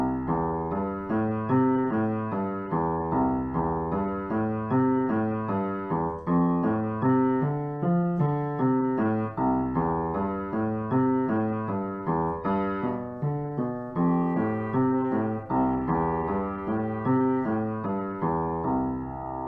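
Blues piano with a steady walking bass line under broken chords, played solo at an even, moderate loudness and continuous throughout with no talking.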